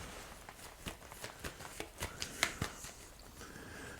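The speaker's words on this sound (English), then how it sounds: "Alright, now I'm going to pick out 3 cards." Tarot cards being drawn from a deck, soft papery flicks and light taps in an uneven series, quiet and close.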